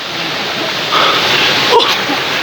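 Bambi Falls, a waterfall in Negros Occidental, the Philippines, heard as a loud, steady rushing roar of falling water filling the scene without a break, with no talk.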